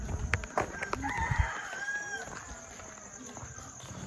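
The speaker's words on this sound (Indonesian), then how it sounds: "Kalian bisa dengar suara ayam berkokok di mana-mana." Roosters crow at dawn around a rural village near a chapel in Indonesia, one clear crow nearby with others fainter in the distance, while a person talks.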